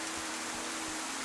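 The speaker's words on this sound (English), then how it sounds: "A lot of rain." Rain falls in the video game DayZ, a dense, even hiss of heavy downpour that stays constant and close for a brief moment.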